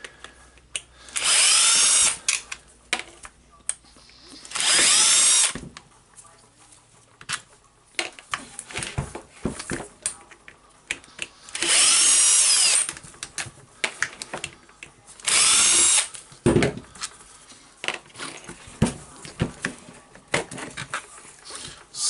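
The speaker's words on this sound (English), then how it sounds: "Now I will unscrew the 4 screws to separate the motor housing from the hammer housing" A power screwdriver backs four screws out of a hammer drill housing to separate the motor housing: four loud, steady whirring bursts of about a second each, with small metallic clicks and handling noises between them, close up.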